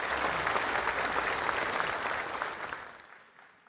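Congregation applause during a live Mass at the Basilica of Caacupé, warm sustained clapping echoing through the large church, steady at first then fading away to near silence.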